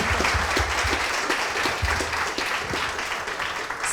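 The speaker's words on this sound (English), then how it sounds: "A big round of applause for this amazing Duolingo performance." An audience claps after a live performance at a conference event, dense sustained applause close and loud throughout, with no one speaking over it.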